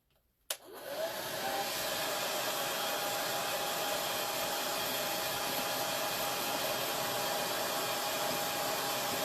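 After a click, a small hair dryer whirs on and runs steadily at full power, a constant breathy hum close by, drying chalk paint.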